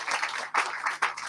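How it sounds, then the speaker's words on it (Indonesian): A church congregation bursts into applause, a dense wash of clapping that swells in two or three waves. "Yang percaya berikan tepuk tangan yang meriah buat Tuhan kita."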